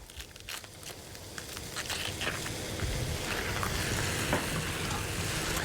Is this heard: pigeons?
no